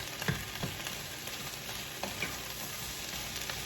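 Vegetables sizzle in a pan as they cook down before cauliflower rice goes in, a steady close frying hiss broken by a few light stirring clicks, no talking.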